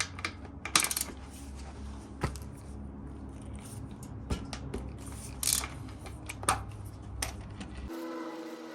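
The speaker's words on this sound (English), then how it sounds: "Now we're gonna unscrew the drain plug. It's a 3/4 socket." Ratcheting and clicking as a 3/4 socket unscrews the transmission drain plug on a Harley Davidson Twincam, with irregular sharp metallic clicks and taps over a quiet background hum.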